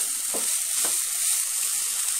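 Grated coconut roasting in sugar in a pan on a stove sizzles steadily and closely, with a couple of soft stirring scrapes and no talking.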